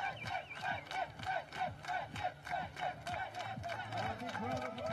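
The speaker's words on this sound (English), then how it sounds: "We see the Sweden fans cheering." Swedish fans at the 2018 World Archery Field Championships in Cortina cheer faintly from a distance, with a steady rhythmic pulse like clapping running under a low crowd murmur.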